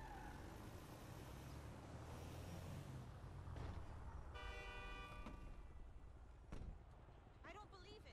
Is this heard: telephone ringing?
no